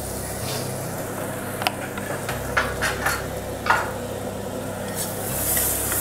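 Chopped onion sautés in oil for a wheat samosa filling, a steady soft sizzle broken by a few light clinks and scrapes of a spoon against the pan.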